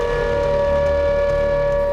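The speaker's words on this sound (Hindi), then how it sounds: "एस्टोनिया की राजधानी तालिन में अचानक एयर रेड अलर्ट के सायरन गूंजने लगे।" Air raid alert sirens blare across Tallinn, Estonia, a loud, steady civil-defense tone that holds without pause.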